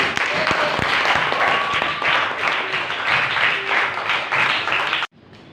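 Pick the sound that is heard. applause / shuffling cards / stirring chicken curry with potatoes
applause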